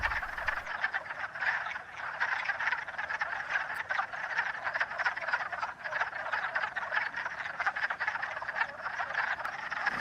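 A dense chorus of breeding wood frogs croaks continuously, many overlapping clucking calls blending into a steady, moderately loud din with no talking.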